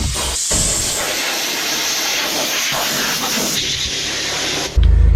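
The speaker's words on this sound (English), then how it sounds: "I'm just going to get the air line, blow it out." Compressed air line blasting out a forklift part in a workshop, a loud steady hiss of rushing air that runs for about five seconds and then cuts off sharply.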